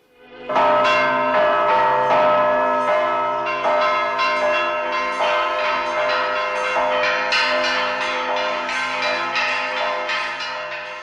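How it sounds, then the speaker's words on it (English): Church bells peal continuously and loudly, overlapping strikes ringing out in a rich, sustained clangor with no voices. "the sounds of the church bells are heard"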